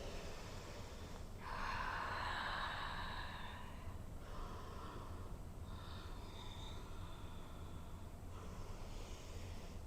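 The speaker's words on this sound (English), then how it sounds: "A few deep breaths." Deep, slow breaths drawn in and let out during a standing yoga balance, with one long exhale-like rush early on and softer breathing later over a steady low room hum, no talk.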